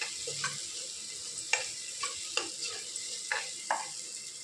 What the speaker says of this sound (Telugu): సో సాల్ట్ కూడా వేసేసుకొని ఆ గ్రేవీకి సరిపోయినంత బాగా మిక్స్ చేసుకుందాం.